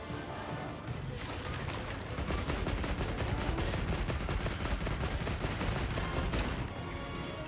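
A barrage of cluster bomb explosions from a heavy bowgun in Monster Hunter Wilds, heard as a loud, continuous roar of rapid overlapping blasts and crackle that fills the whole stretch, with no talk.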